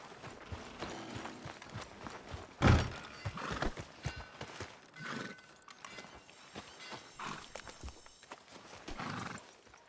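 A horse in Red Dead Redemption gives a sharp, loud whinny early on, among soft hoof clops, shuffling and thuds of tack and movement that go on afterward at a moderate level.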